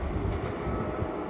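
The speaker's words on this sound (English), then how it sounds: "The fastest freight on the Vermont Railway." A Vermont Railway freight train heading into Burlington rumbles past nearby, a steady loud low roar of rolling railcars with no talk.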